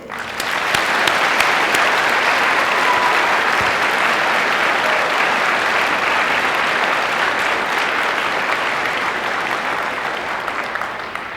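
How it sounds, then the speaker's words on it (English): An audience at a high school Veterans Day ceremony applauds its veterans, a loud, steady wash of clapping that holds for about eleven seconds before easing slightly. "Can we give one round of applause to our veterans real quick?"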